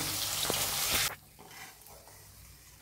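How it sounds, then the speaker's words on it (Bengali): Hilsa fish fries in hot oil with a loud, dense sizzle for about a second, then drops abruptly to a faint, low hiss. "এবার মাছটা আমি ভেজে তুলে নিয়েছি"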